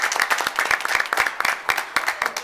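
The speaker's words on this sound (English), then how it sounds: "I'd like you all to give them a round of applause for the work" Applause from the audience at a Cuyahoga Falls City Schools board of education meeting, a modest crowd clapping with distinct, uneven individual claps close by, steady for the whole stretch.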